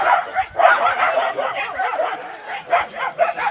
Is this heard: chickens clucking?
no